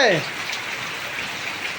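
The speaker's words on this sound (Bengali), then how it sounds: "কেমন বৃষ্টি হচ্ছে বলো?" Steady rain falling, a broad even hiss of drops on surfaces with a brief sharper onset at the start, continuing without pause.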